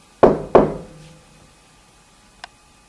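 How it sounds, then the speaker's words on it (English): Two loud, sharp knocks close together on a hard surface, then a faint single tap about two seconds later, in an otherwise quiet room during a ghost-hunting session. "Just knock on something."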